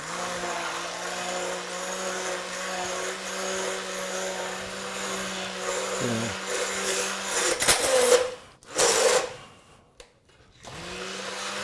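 A blender grinds cooled homemade marinara sauce into a smooth, silky purée, a loud steady whirring drone that dips and surges near the end as the motor stops and restarts.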